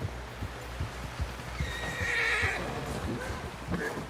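A horse in the Red Dead Redemption II video game gives a clear, fairly close whinny that rises and falls, with soft hoof clops and shuffling underneath and no talking.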